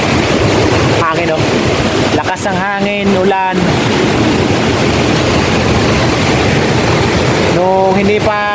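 Strong typhoon wind roars steadily by the sea with surf beneath it, while a voice speaks in short bursts over the constant rush.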